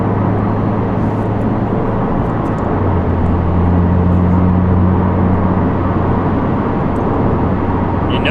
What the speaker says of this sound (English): There's a little bit of a boxer rumble, you can hear a little undertone of it.